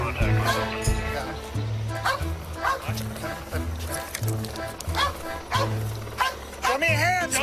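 A police K9 dog barks and yelps repeatedly in an agitated rhythm, close and loud, during the arrest of a hit-and-run suspect, with officers shouting commands over it.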